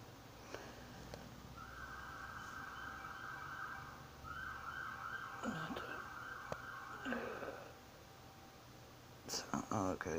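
A police siren wails outside while a car is pulled over, a steady tone that sweeps and yelps, distant and muffled indoors, with soft rustling nearby.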